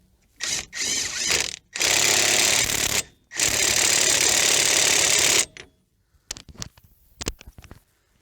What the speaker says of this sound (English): Next, let's reinstall our axle nut.